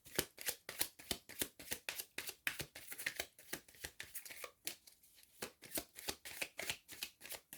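Oracle cards being shuffled by hand, a steady run of crisp riffling slaps repeating in quick rhythm, close and fairly quiet, with no talking.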